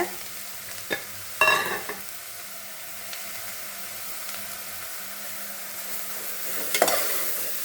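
About 400 grams of grated carrot fries in ghee over a medium flame for carrot halwa, with a soft steady sizzle broken by a few close scraping stirs of the spoon.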